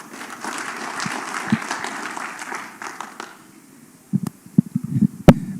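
An audience at a university teaching-centre launch event claps for several seconds, a soft broad patter that fades, followed by a few scattered sharp claps and knocks nearby.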